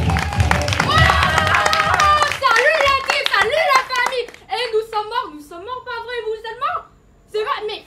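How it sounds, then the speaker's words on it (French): Students' theatre audience applauding at a cabaret show, a dense burst of clapping at the start that soon gives way to loud voices talking and calling out over the fading claps. "On applaudit très fort, mesdames et messieurs"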